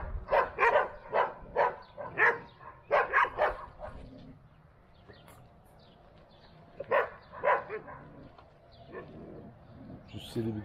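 Repeated loud barks from a large dog come in a quick burst, then pause and return in a shorter volley, with outdoor background noise between them and a voice talking.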